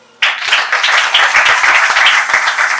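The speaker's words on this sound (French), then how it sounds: "Est-ce qu'on peut acclamer?" A live audience bursts into sustained clapping and cheering, loud and close, with the applause starting suddenly and continuing evenly for a few seconds.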